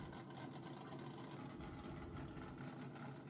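A swapped, non-stock car engine in a drifting video game rumbles with a low, steady, loping idle, constant and fairly loud with no talking.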